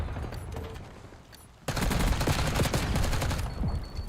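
Rapid gunfire in a Call of Duty match at a LAN playoff event, a sudden dense barrage of automatic shots erupting after quieter, sparse sounds, loud and sustained for several seconds.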